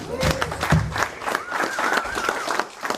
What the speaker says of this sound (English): please give yet another round of applause for our two Rotarians of the month